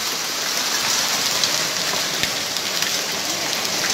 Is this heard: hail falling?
yes